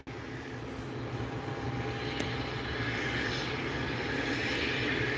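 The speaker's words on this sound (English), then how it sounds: "an American Airbus A321 NX going to Charlotte" An American Airlines Airbus A321neo jet about three years old roars steadily and loudly at an airport, its broadband engine rumble building slightly over several seconds with no talk.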